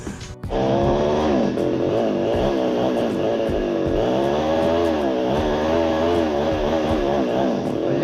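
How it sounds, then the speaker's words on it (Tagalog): A rough, uneven engine runs loud and continuous throughout, its steady droning note stuttering and wavering as it misfires, with no voices over it. "Palyado yung makina."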